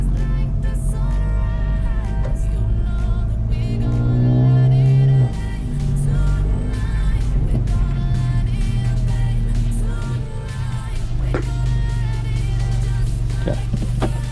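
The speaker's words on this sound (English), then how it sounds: "Let's see if we can get some turbo spool." A tuned car engine revs loud and close in a steady, sustained drone, with rising pitch sweeps as the turbo spools up and a high whine layered over the engine tone.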